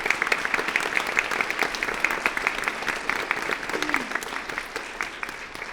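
An audience at a school board meeting gives sustained applause for Trask Middle School, a dense, even patter of many hands with a faint voice briefly audible underneath.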